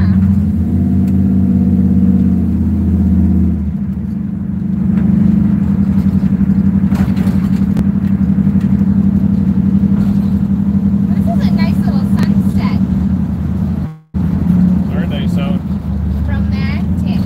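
Car with an LS engine fitted with headers and a Holley Terminator kit, a loud steady low engine drone while driving, rising briefly in revs, with people talking over it inside the car.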